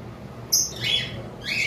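A lovebird gives three short, bright chirps in quick succession, close and clear over a quiet room hum.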